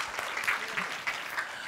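A congregation claps together in church after a prayer, the applause soft and somewhat distant, with a few brighter claps standing out over a brief stretch.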